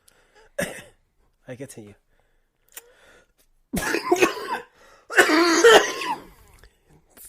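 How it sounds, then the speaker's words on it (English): A person coughs in several short bursts, some forced and some genuine, mixed with throat clearing and brief speech in a quiet room, the later coughs louder and harsher. "I'm pretending to cough, but then I made myself cough for real."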